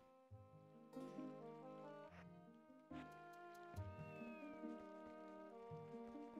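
Cats meow repeatedly in The Legend of Zelda: Twilight Princess, heard as several faint, drawn-out cries over continuous game music, with no talking.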